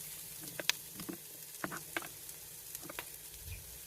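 Onions and mushrooms caramelize in a pan on the stove with a soft, steady sizzle. Faint stirring clicks and pops rise over it now and then.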